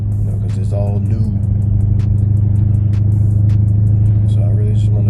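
A BMW 650i engine running after new spark plugs were fitted, a loud, steady low hum and rumble from inside the car, with a person talking over it.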